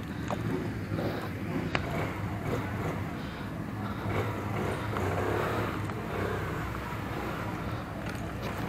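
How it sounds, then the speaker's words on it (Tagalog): A Euro Motor Griffin 180i motorcycle runs on a test ride, its engine a steady low drone with wind rumble and a couple of sharp knocks, close and continuous without clear revving. "Alright, so ride na natin tong Euro Griffin 180i."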